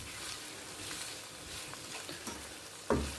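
Sugar melting in a pan for plum chutney gives a faint, continuous low sizzle with soft stirring scrapes, ending in a sharper knock or clatter near the end.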